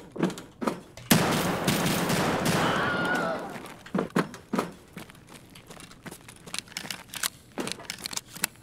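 Gunfire in the shooter game Escape from Tarkov: a sustained automatic burst, then scattered single shots and short volleys, fairly loud and sharp, with faint talk between.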